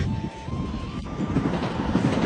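A train arriving at a station in South Korea rumbles steadily close by with a low, continuous roar, a faint high whine running through it.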